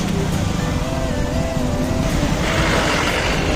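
Steady road traffic near the flooded Uma river, with car and vehicle engines droning continuously at moderate distance, a broad rumble that swells slightly toward the end, with no clear voices.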